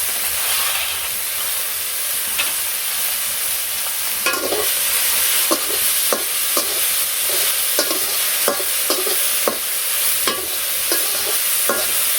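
Soybean chunks fry in plenty of hot oil in a wok, giving a steady loud sizzle and hiss with repeated sharp scrapes and clicks of stirring throughout.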